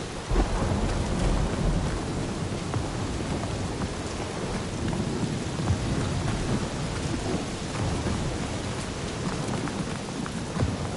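A thunderstorm in the Guardians of the Galaxy video game: dense, steady rain hisses and patters with low thunder rumbling throughout, loud and continuous with no voices.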